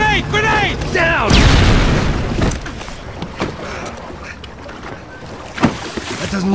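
In a Max Payne 3 gunfight at sea, a loud grenade blast erupts close to a boat after brief shouting, followed by rumbling water and engine noise with scattered sharp cracks.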